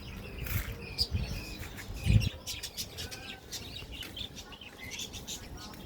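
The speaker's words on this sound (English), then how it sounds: "enjoy the different parrots of Israel over here" Parrots call in an outdoor parrot park in Beit Shemesh, Israel, with scattered squawks and chirps, one louder burst near the middle, over a steady hum of birds and wings at varying distances.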